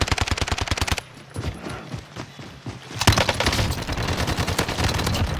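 Rapid bursts of automatic enemy gunfire in the Warzone video game, a dense rattle of shots that pauses briefly, then resumes loud and close with sustained fire and clattering impacts.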